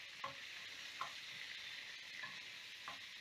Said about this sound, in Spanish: vamos a freír un poco, no mucho. Y así también, de paso, se va desarmando la cebolla